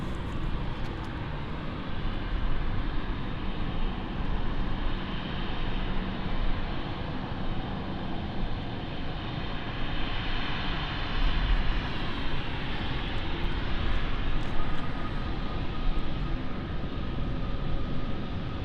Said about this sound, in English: it's an Embraer for British Airways, but it's operated by German Airways